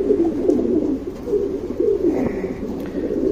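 Pigeons, a Dhooma female and a black regular male, give soft, repeated throaty coos close by, rising and falling in short phrases against a quiet background.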